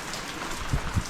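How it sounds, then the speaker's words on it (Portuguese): Steady rain falling outdoors at a home, a continuous soft hiss with two dull, low thumps of drops near the end. "agora a chuvinha chegou de vez"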